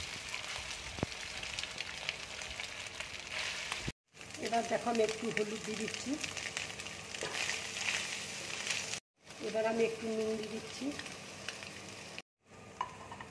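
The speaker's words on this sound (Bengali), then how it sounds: "এবার কড়াই দেখো তেল দিয়েছি, এবার আমি সয়াবিনগুলো তেলের মধ্যে দিয়ে দিচ্ছি।" Soybean chunks frying in hot oil in a wok, a continuous sizzle and bubbling with occasional stirring scrapes, heard under someone speaking, cut by brief silent gaps.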